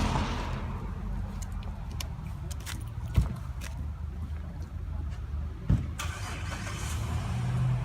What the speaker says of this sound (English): the cars going left to right, they go around the bus